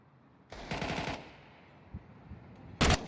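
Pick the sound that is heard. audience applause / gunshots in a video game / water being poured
gunshots in a video game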